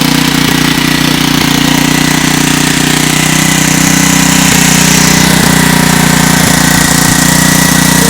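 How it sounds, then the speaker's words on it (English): A Lifan pocket bike engine in a rebuilt, lightly modified bike runs loud and close up with a steady buzzing drone. Faint rhythmic knocks recur through it. "finally got the LIFAN running."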